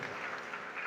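Applause during a church service: steady, dense crowd clapping throughout, even and sustained at moderate loudness with no gaps.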